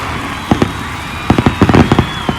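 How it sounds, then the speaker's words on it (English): Fireworks bursts celebrating a college football touchdown in Colorado: a scatter of sharp pops and crackles, a pair early then a dense cluster of about eight bangs, fairly close over a steady background hiss. "Fireworks, please."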